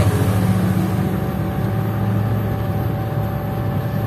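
A Regal Raptor K5 Long small electric car drives at about 50 km/h, giving a steady low motor hum and road rumble with a faint whine throughout.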